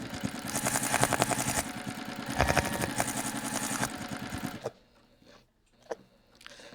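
A sewing machine stitches around the corners of a fabric bag in a few rapid bursts with brief pauses between, then falls quiet apart from a couple of handling knocks.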